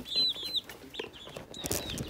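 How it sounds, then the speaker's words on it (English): Backyard chickens cluck in short, agitated bursts, several quick calls close by in quick succession over a couple of seconds with no talking. "the chickens are still going nuts"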